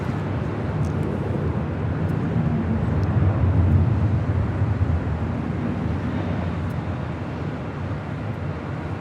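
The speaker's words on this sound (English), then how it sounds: "Next arrival here on the north side, Delta Airlines flight 2272. It's an A319 coming in from SFO." A Delta Airlines Airbus A319 arriving at LAX from SFO produces a steady, broadband jet roar. It stays fairly loud and continuous, swelling slightly midway with no voices.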